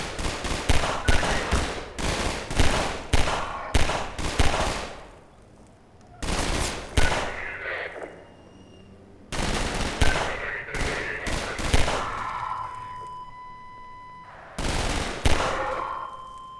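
Bursts of gunfire from Half-Life 2 while shooting Civil Protection soldiers in the Route Kanal chapter, several rapid volleys separated by short pauses, loud and close.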